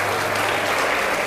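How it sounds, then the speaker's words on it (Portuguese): A church congregation at a Portuguese-language worship service claps together in a dense, continuous burst of applause that fills the room, with no clear speech over it. "E aplaude enquanto você dá glórias."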